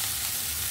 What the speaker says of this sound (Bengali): আলুটা একটু লাল লাল করে ভাজা হয়ে গেছে